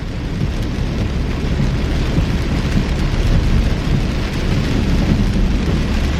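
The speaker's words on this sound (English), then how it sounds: "pouring down rain." Heavy summer rain pours down steadily in a dense, loud, unbroken hiss and rumble, with no voices.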